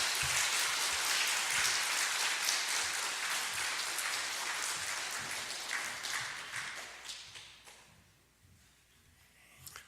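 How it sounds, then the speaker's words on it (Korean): A crowd at a Korean autumn culture festival claps warmly to welcome a guest speaker, a broad, dense wash of hands that holds steady and then tapers off toward the end. "우리 뜨거운 박수로 좀 환영해 주시면 감사하겠습니다"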